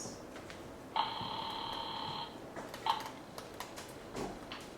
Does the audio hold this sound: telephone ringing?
yes